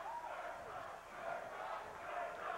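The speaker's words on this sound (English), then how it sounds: "We'll hear the crowd count it down here." Basketball crowd in a high school gym, a sustained roar of many voices rising and falling in waves, loud and continuous throughout, with the swells consistent with fans chanting a countdown.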